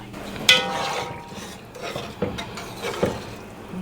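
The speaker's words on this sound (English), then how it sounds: "Actually, can I stir this first?" Food being stirred in a pan while cooking a Thanksgiving dinner, with a few distinct scraping knocks of the utensil over a faint background, and no speech.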